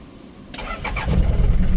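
A Daihatsu Fourtrak engine cranks briefly on a repaired starter motor, then catches and settles into a steady, rumbling idle, close and fairly loud.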